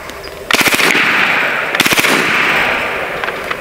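A Hatsan Blitz .30-caliber air rifle fitted with an AIR-15 kit fires two loud, rapid bursts of closely spaced shots, each burst a fast rattling string with a pause between them.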